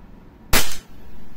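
A single sharp crack from a WE Glock 35 gas airsoft pistol fired during a muzzle velocity test, loud and close, followed by quiet.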